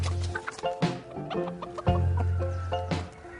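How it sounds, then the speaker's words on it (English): Several hens cluck close by inside a hen house, their quick, overlapping calls rising and falling in busy bursts with no voices present. "by far the most successful is the chicken."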